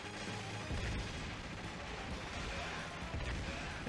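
Dense enemy gunfire and explosions rattle through the arcade shooter Metal Slug, a continuous loud barrage of crackling blasts and thuds with no pause across the stretch.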